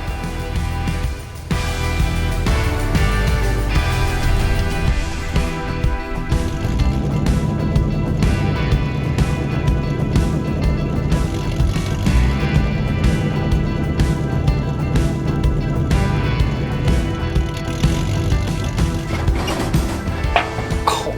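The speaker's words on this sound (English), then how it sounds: "I'm really enjoying driving this little Jeep." A Jeep with a 3.6 litre V6 engine crawls over rock steps in a backyard, its engine droning steadily near the listener with scattered knocks and thumps from tires and suspension.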